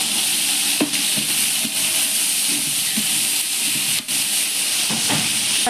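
Garlic paste sizzles loudly in a pan with onions, green chili and tomato, a dense continuous hiss broken by repeated sharp scrapes and taps of a stirring spoon.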